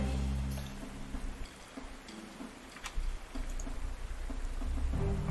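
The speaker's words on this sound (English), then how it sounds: "it just started raining really heavily" Steady heavy rain in the video game Panzer Corps 2 hisses throughout, with a low rumble and scattered sharper patters, no voices.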